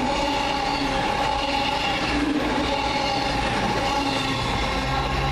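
A Class 221 Voyager passenger train passes at Adderley Park, a steady loud rumble of wheels and engine rolling by close for several seconds with no speech.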